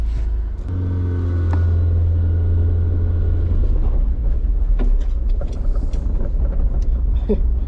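A Honda Civic RT4WD wagon on the move: a steady low engine drone gives way to broad road and cabin rumble, with scattered knocks and rattles throughout.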